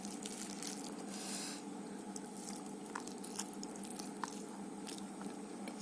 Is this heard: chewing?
yes